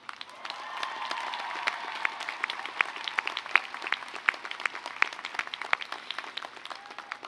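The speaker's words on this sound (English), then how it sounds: "let's also celebrate your families and friends with a very big round of applause." A commencement audience applauds at moderate volume, with many individual claps standing out crisply against a softer crowd wash, steady throughout with no talking.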